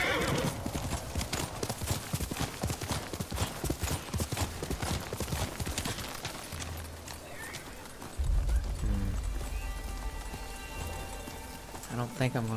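Rapid hoofbeats clatter steadily as an armored horse gallops in Ghost of Tsushima Director's Cut, with a loud whinny near the end over a rumbling thud; game-like sound effects, no clear talk.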